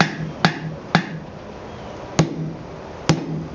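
A blacksmith's hammer strikes hot steel while forging the taper on a pair of tongs, five sharp ringing blows at irregular intervals over a steady background roar, close and loud.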